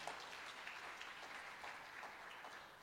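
A church congregation at a youth revival meeting claps in a steady, fairly soft wash of applause that runs unbroken for a few seconds, with no speech over it.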